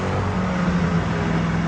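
The Koenigsegg Agera R V8 roars loudly inside the cabin, a dense, steady engine drone with a low rumble, continuous for under two seconds.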